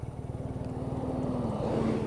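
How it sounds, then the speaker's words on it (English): A 2014 BMW R nineT with its boxer engine runs under a rider, giving a steady low, pulsing throb that builds slightly in loudness, with a faint whining tone over the top and no talk. "riding this motorcycle with a boxer engine"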